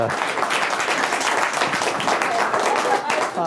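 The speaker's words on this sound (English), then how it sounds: "A big round of applause for Stephanie." Dense, steady applause from a crowd fills the whole stretch, loud and continuous without a break.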